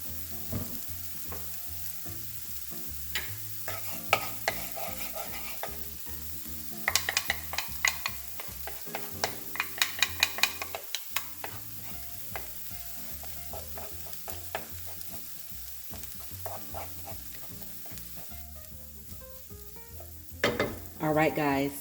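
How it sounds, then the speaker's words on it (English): Egg being scrambled in a little oil at the center of a pan of cauliflower rice, with steady sizzling and repeated scraping and stirring strokes, louder bursts of clatter midway and near the end, no talking. "Put just a little bit more oil in the center because now we're going to scramble this egg."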